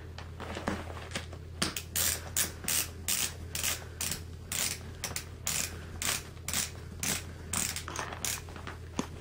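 A snowboard binding strap ratchet is worked steadily, giving a long run of close, evenly spaced mechanical clicks and grinding ratchet strokes that continue for several seconds without any speech.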